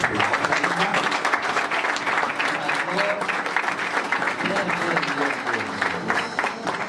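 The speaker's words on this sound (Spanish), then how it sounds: "Un aplauso también a ella que está." Steady, dense applause from a crowd fills the whole stretch, loud and continuous without pause.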